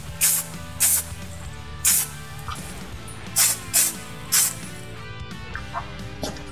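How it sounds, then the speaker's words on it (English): Black E-coat sprayed from an aerosol can as a light dust coat over touch-up paint on a 2000 Mustang Cobra R splitter support brace: six or seven short, loud hissing bursts in an uneven rhythm, with brief quiet gaps between them. "I'm just gonna dust that with some black E-coat."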